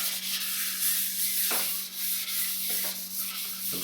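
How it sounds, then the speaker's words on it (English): Steady close-up wet sanding on a Telecaster guitar body, a continuous hissing rub with a couple of brief pauses between strokes and a constant low hum underneath. "No need to press down while wet sanding."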